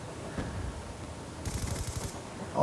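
Rapid automatic bursts from a PDW submachine gun in a first-person shooter, a fast crackling volley of shots at close range, fairly quiet overall with no talking.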